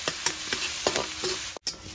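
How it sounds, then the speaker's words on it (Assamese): Onions and green chillies frying together in hot oil, a close, dense sizzle with a few sharp stirring clicks and a brief drop-out near the end, no voices. "ইফালে পিঁয়াজ গোটেইকেইটাই আৰু কেঁচা জলকীয়া একেলগে ভাজি দিওঁ"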